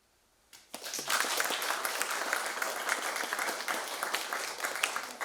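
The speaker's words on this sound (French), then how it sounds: "Sous les applaudissements d'un public enthousiaste." An enthusiastic audience applauds after a piano performance of a Chinese piece celebrating the Moon festival, a burst of many hands that starts quickly and stays full and steady.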